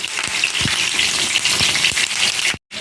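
Fish frying over medium heat in a pan with curry leaves added, a loud, dense, continuous sizzle and spatter of oil with a few small pops, cutting off briefly near the end.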